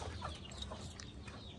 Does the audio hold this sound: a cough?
no